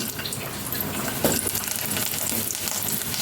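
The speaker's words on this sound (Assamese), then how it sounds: "তেলখিনি গৰম হ'ব দিছিলোঁ, গৰম হৈ গ'ল ধুনীয়াকৈ। তেতিয়া পিঁয়াজ কেইটামান ঢালি দিম।" Onions tipped into hot oil in a home kitchen pan, giving a steady, loud, close broadband sizzle that runs throughout without talk, with a small splashy burst partway through.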